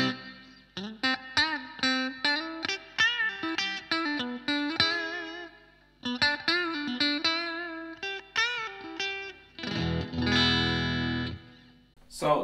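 Electric guitar played through a Blackstar HT1 valve amp on its American voicing with reverb set halfway, a run of picked distorted notes and chords with ringing tails, ending in a loud strummed chord burst.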